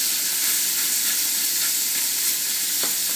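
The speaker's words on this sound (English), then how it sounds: "pan is really quite hot, so it's going to sizzle a fair bit when I put it in" Steak pieces sizzle on butter in a very hot pan, a loud, steady hiss of frying that fills the whole stretch with a few faint pops and no voices.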